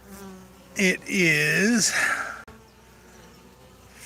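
Honey bees at a beehive give off a low, steady hum up close, with a person speaking briefly over it.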